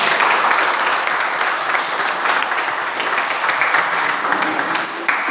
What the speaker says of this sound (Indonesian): Ya, berikan aplaus.